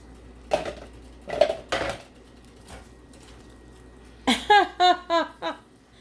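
A spoon knocks and scrapes against a pot while chicken and vegetables are stirred, a few scattered clinks early then a quick run of five rhythmic metallic taps, close and fairly loud.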